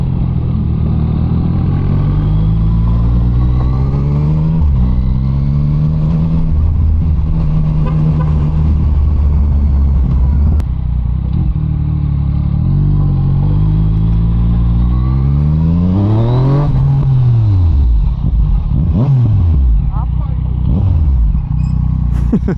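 A Yamaha MT-09 motorcycle engine under way through city streets, loud and close, its tone rising and falling with throttle changes and sharp revving sweeps near the end, with occasional speech over it.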